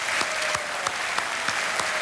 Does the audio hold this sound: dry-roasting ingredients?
no